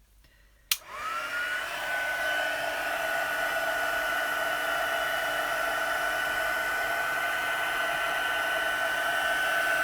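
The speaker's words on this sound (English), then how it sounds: "it's got the heat gun here just now, so let's see if we can dry it up a little bit" A handheld heat gun clicks on and blows steadily as it dries ink during card crafting, producing a loud, continuous whirring rush with a high whine that holds until the end.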